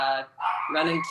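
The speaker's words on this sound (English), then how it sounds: "So I apologize if you can hear the pups in the background barking." Pet pups bark and yip in the background of a home while someone talks over them, the short, sharp calls mixing with his voice.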